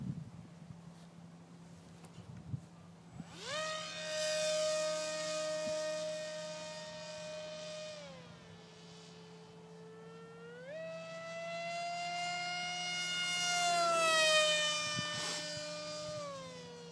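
The electric motor of an RC flying wing plane whines after a hand launch, a steady high drone that rises and falls in pitch as the throttle changes, heard over a constant low hum with no talk.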